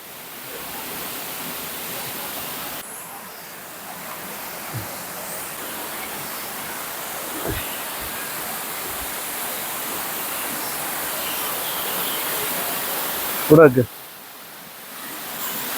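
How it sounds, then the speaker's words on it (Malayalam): Meenmutti waterfall at Banasura in Wayanad roars as a steady, broad rush of falling water throughout, with a brief louder knock near the end. "മീൻമുട്ടി വാട്ടർഫാൾസ് കണ്ടോ?"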